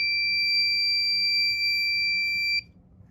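A garage parking assistant's alarm buzzer sounds a steady, piercing electronic tone for about two and a half seconds, then cuts off abruptly, leaving only faint room hum.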